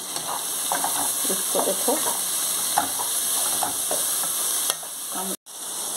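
Sliced onions frying in a pan in a home kitchen, a steady sizzle and hiss running throughout with occasional stirring scrapes, while a voice speaks briefly over it.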